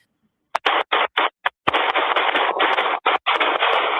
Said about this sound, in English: Gunshots hitting the home she shares with her children.